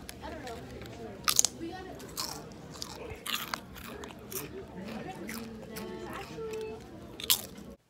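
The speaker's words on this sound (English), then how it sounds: "Eating chips." Potato chips are bitten and munched close to the microphone in repeated sharp crunches and chewing bursts, with a voice speaking quietly in between.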